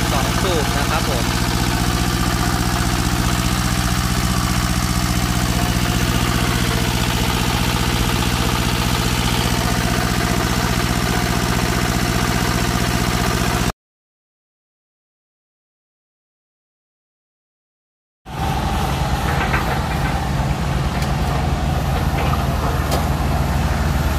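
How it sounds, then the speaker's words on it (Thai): Two-cylinder diesel engine on a used Japanese rice threshing machine idling loudly and steadily up close, with a low rumbling drone. It cuts out to silence for several seconds, then the engine noise returns. "เครื่องดีเซลนะครับผม สองสูบนะครับผม"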